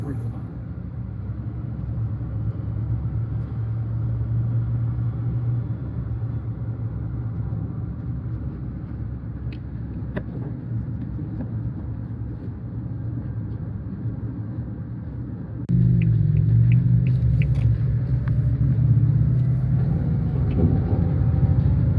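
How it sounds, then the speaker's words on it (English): A Suzuki Jimny JB64 kei car's engine drones and rumbles while driving up a hill, with a whining turbo rising in pitch; the engine gets louder and higher partway through. "Now I can hear the turbo."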